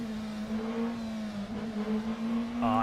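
A prototype race car engine in a racing simulator game drones steadily at a sustained, buzzing pitch, loud and continuous with slight pitch shifts, and a brief rising whine near the end.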